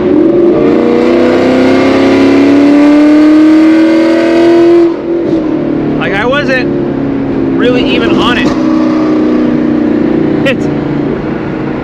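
An S550 Ford Mustang GT with loud catless headers and E85 fuel roars as it accelerates, a strong rising engine drone heard from inside the car before easing off, with someone talking over the exhaust afterward.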